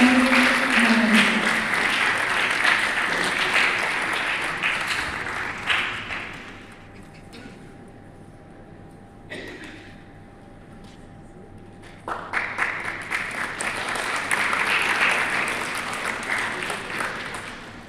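A conference audience applauds a dignitaries' unveiling at an international hospitality conference, a dense, loud round of clapping that thins into a quieter lull midway before swelling again into a full ovation.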